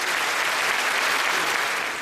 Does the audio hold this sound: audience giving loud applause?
yes